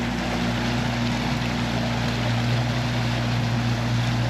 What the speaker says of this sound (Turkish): Gaz veriyorum kaptan gidelim.